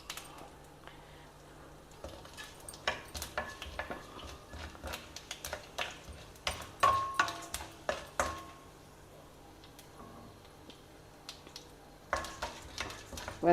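Lentils (dals, chana dal) and one dry red chilli roast in oil. It comes through as a faint sizzle under sharp, scattered clicks and scrapes of a spoon against the pan, with no voices.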